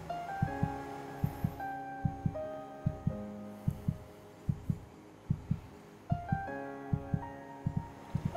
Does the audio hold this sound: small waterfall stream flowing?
no